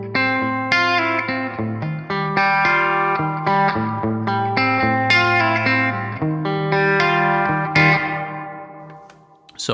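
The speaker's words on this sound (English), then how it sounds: "I can go with these long times and not have the reverberations swallow what I'm playing" Electric guitar through a reverb pedal with a long decay, playing a steady run of clean, distinct notes and chords that ring into a wide, lingering tail without blurring, loud and up close with no talking.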